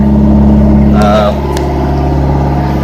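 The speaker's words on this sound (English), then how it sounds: "But here is the engine, right there." A boat's engine runs loud and steady in the narrow gap between two crew sleeping cabins, a constant low droning hum with tonal whine, and a brief clatter partway through.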